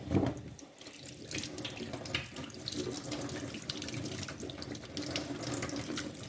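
Tap water runs steadily into a sink while pumpkin pieces are rinsed for homemade pumpkin in syrup, a continuous close splashing flow with small shifts as the pieces are handled.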